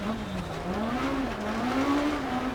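A rally car racing on a stage in Wales in a driving game, its engine droning loudly with a wavering pitch as it holds speed through corners, with faint tire noise underneath and no voices.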